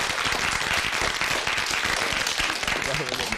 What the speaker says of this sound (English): Give a round of applause for St Mary's on the spot, Mark.